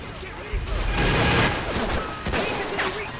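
A burst of rapid gunfire crackles and booms in a chaotic battle scene in the video game Men of War: Assault Squad, shots overlapping in a dense volley with brief lulls.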